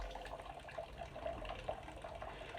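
Wort runnings drain steadily from a homebrew mash tun, a continuous trickling, splashing flow of liquid close by with no voices.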